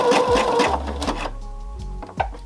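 A sewing machine runs a straight stitch and backstitches to lock the seam, its motor whirring in short bursts that stop and restart as the direction changes, close and clear with no talking.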